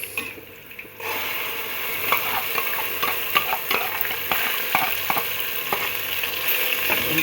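Tomatoes for spaghetti frying in a pan, a spoon stirring and scraping in irregular strokes over a continuous sizzle after a brief quiet start.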